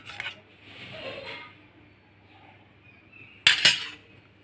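Rice and dishes are served onto a plate with utensils in a quiet kitchen: soft scrapes and light rubbing early on, then a sharp, bright clink of metal on the plate near the end.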